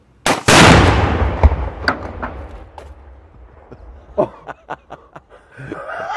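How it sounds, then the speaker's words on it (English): A gunshot fires with a sharp, loud crack followed by a ricochet, then a rapid scatter of smaller pops and clicks fading away over several seconds. "That was ricochet."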